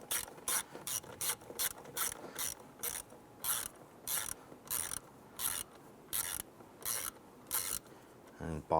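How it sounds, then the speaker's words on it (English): A ratchet tightens the mass airflow sensor bolt on a 1995-2001 Ford Explorer, producing a close, loud run of regular clicking bursts in a steady back-and-forth rhythm, with a clunk at the end. "When that bolt bottoms out, you just want to go about a quarter turn."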